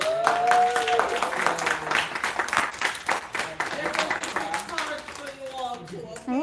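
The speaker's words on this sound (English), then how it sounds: "can we have a round of applause for Joanna and Lawson?" Audience applause at a quiz bowl trophy presentation for a heritage month event, steady clapping mixed with voices and cheering throughout, fairly close and loud.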